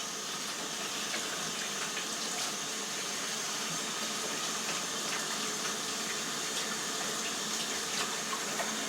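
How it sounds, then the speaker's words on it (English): A kitchen tap running steadily while hands are washed under it, a constant close rush of water with faint splashing and no other sounds. "Wash my hands."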